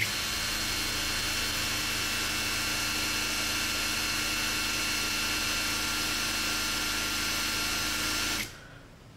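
A cordless brushless impact wrench spins freely on its low-speed setting, giving a steady, loud motor whine that runs unbroken for about eight seconds before cutting off abruptly.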